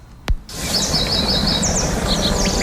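Raspy bird song, its call seeming to say its own name, rings out clear and close over a steady outdoor background, with a brief knock at the start.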